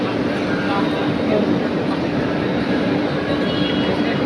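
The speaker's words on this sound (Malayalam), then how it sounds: "നമുക്ക് ട്രെയിൻ കിട്ടി." A steady, loud rumble of a train running, broadband rail noise with a low hum throughout, and voices murmuring faintly underneath.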